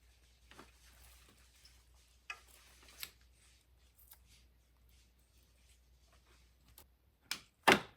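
Scissors cut floral stems for a cross-shaped floral arrangement: a few sharp, close snips, spaced apart with a louder pair near the end, over a quiet room with faint handling noise.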